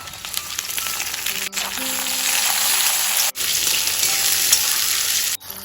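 Hot oil in a kadai frying dry red chillies, bay leaf, whole garam masala, onion and tomato for an egg curry, a loud, close, continuous crackling sizzle broken by a few brief cuts.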